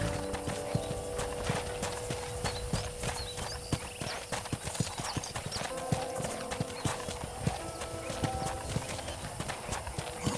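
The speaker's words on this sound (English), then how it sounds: "I picked out a fine horse for you." Horse hooves clip-clopping in the Red Dead Redemption video game, a brisk, steady trot of sharp hoof strikes close by, continuous over ambient ranch sound with a brief whinny-like tone.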